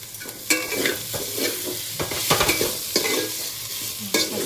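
Turmeric-spiced mixture frying in a pan over a low gas flame for khichuri, a steady soft sizzle broken by repeated scraping and stirring strokes close by, with no voices.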